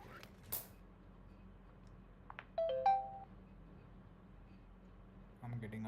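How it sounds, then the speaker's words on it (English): A computer gives faint, short tonal blips and chirps in quick succession, with quiet room noise around them. "I'm getting a lot of notifications."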